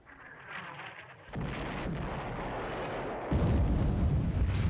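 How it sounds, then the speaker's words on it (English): A heavy explosion hits below the waterline of a warship in a naval battle video game, landing as a sudden deep boom that swells into a loud sustained rumble, followed by a second, louder surge of roaring blast noise. "Explosion below waterline"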